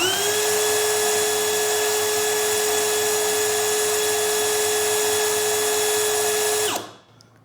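DeWALT DCD999N cordless brushless hammer drill running freely at steady high speed, a loud continuous whine with a stable pitch that winds down at the end.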